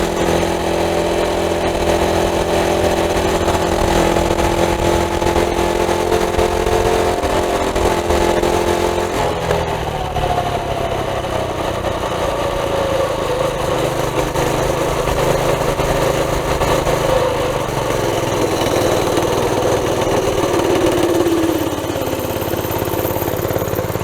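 A Monster Moto 80cc mini bike fitted with a Predator engine runs continuously on hardtop pavement, its small motor buzzing loud and close, pitch shifting as it revs up and settles while riding.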